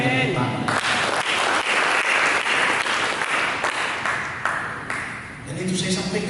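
A church congregation applauds, a dense wash of clapping lasting several seconds before it thins out.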